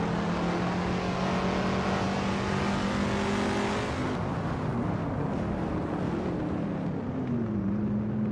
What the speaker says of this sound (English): Honey 3 is driving a 1970 Pontiac Firebird Trans Am and is currently in 8th place